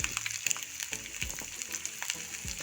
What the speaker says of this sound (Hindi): अब इसमें हम कटा हुआ प्याज डाल देंगे।